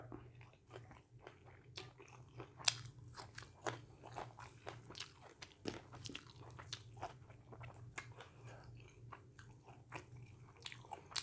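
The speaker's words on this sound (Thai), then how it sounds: "รั่งกินลาบพี่น้อง ฝรั่งกินลาบ" A foreigner chews laab, a Thai minced meat salad, close to the mic, with repeated wet crunches and bites in an irregular rhythm over a low background hum and no talking.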